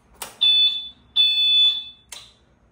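Loud, piercing electronic beeps repeating close by, two long tones and a short one starting, an electric golf cart's reverse warning alarm.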